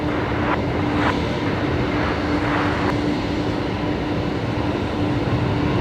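A Velocity airliner heading to Melbourne passing at Brisbane Airport, a steady loud jet engine roar with a constant whine, no talking.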